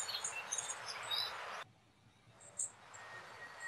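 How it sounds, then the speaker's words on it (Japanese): A Japanese bush warbler (uguisu) sings outdoors, faint, high, whistled notes with other bird chirps and insect noise. The busy sound cuts off abruptly partway, leaving quieter scattered chirps. "今、ウグイスが鳴いたと思います。"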